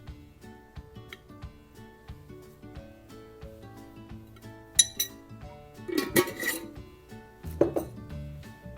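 A spoon stirring beef soup in a pot, with soft scraping and several sharp metallic clinks against the pot's side in the second half, close and fairly quiet, with steady background music.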